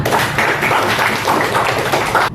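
Children clap together during a Christian values lesson: a dense, steady patter of many small hands that runs continuously at a fairly loud level, with no voices over it.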